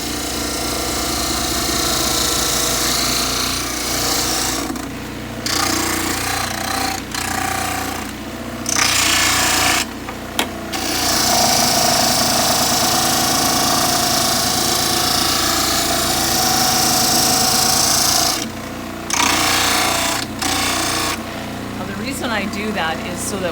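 A dental model trimmer grinds away the back heel of a plaster orthodontic model with a loud, steady whirring hum and gritty grinding texture, broken by several brief pauses where the wheel sound drops away.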